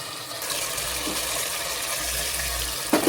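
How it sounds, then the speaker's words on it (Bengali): Water poured into a pan of potatoes browning for a Bengali fish curry with potatoes, a steady close gushing, splashing wash throughout, ending in a brief clatter. "অল্প অল্প জল দিয়ে আমি আলুগুলো কষিয়ে নেব।"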